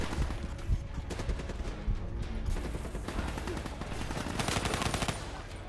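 Rapid automatic gunfire in the video game Call of Duty Black Ops III, set in a Chinatown street fight, a steady rattling stream of shots that thickens toward the end, with faint talk underneath.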